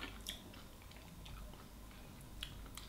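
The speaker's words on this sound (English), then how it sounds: "And just chew it lightly." Someone chews an olive slowly and lightly, with soft, wet, irregular chewing sounds close to the mouth and faint clicks, no talking.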